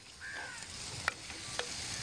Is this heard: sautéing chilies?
yes